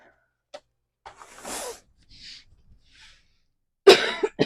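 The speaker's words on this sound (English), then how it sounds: "I got the cough tonight too." A few small throat sounds lead up to a sharp, loud cough near the end, followed by a brief throat clear in a quiet room.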